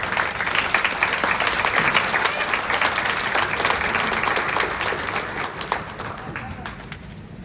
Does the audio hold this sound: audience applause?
yes